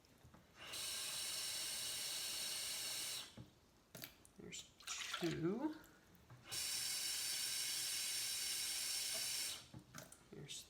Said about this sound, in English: I'm gonna put a few cups of water in this bowl.